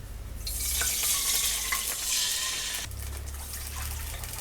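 Water pours into hot ghee with a loud, steady sizzle and hiss, continuing nearly unbroken, with a brief lull before the bubbling picks up again.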